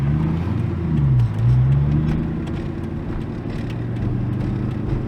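A car on the road, with a steady mid-pitched engine hum and rising and falling revs as it accelerates, close and continuous, with no talking.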